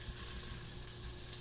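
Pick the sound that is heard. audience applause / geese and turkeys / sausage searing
sausage searing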